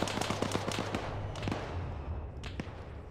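Gunshots in the Convoy Raiders video game: a quick run of sharp cracks, then a few isolated louder reports over a constant low rumble of battle ambience.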